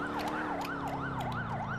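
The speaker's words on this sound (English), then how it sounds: "So we have this new siren. It's called the Oz Siren version 1 by Randomizer." An Australian-style Oz Siren police siren in GTA IV wails in fast, regular rising-and-falling sweeps, continuous and prominent over a low vehicle rumble.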